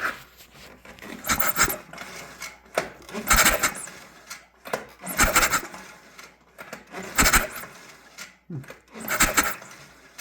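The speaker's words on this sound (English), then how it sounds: "I'm gonna spin it over quickly and we'll watch those valves moving" Honda Ricon engine, a broken unit being taken apart, spun over by hand with its valves moving, giving five loud bursts of rasping, rubbing mechanical churn roughly every two seconds, close up.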